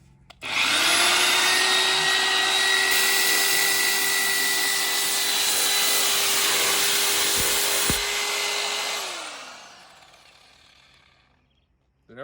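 A power polisher pad buffs a 1993 40th Anniversary Corvette bumper at highest speed with a loud, steady high whine that spins up, holds evenly, then winds down and fades.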